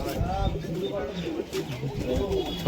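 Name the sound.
Pakistani Banka pigeons cooing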